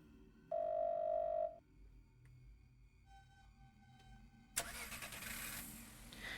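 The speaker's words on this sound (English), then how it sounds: "The sound of a car starting is coming from outside the door." In a video game, a car engine outside the door starts after a brief tone and some quiet clicks, then settles into a broad, rough running noise at moderate volume.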